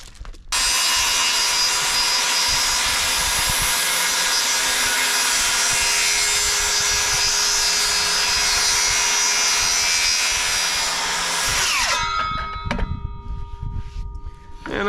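A Wood-Mizer band sawmill cuts through a pine log with a loud, continuous high-pitched whine and rasp that holds for about eleven seconds, then stops abruptly, leaving clanks and mechanical rattles.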